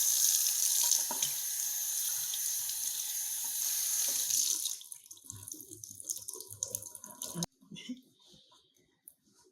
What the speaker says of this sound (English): Let me wet my hair